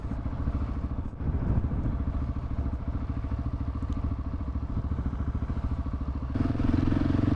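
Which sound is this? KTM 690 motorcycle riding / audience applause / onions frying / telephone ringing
KTM 690 motorcycle riding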